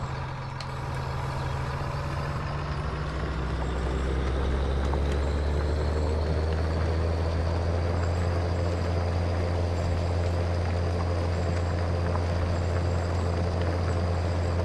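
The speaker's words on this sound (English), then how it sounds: "So that's sounding very nice, this tractor." A John Deere 7810 tractor engine in Farming Simulator 19 drones steadily at close range, a loud, even low rumble with a whining higher tone, running alone with no talk.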